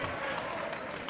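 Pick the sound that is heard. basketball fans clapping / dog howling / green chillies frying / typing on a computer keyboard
basketball fans clapping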